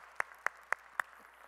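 Four crisp, evenly spaced claps sound at a Korean church worship service, quick and fairly faint over a quiet background.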